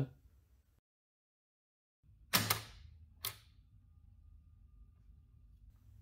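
Mechanism of a 1924 Gundka 5 typewriter operated close up: after a silent pause, two sharp mechanical clacks a second apart, the first with a short rattling tail, over a low steady background.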